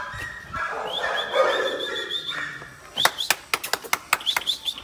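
A four-month-old chocolate-coloured male dog barks in a rapid burst of sharp yaps near the end, after whiny, whimpering vocalisations and some high chirpy sounds earlier, heard close up.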